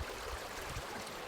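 Bhairavakona waterfall, water falling from a great height, gives a steady broadband rush, loud and continuous, with no voices.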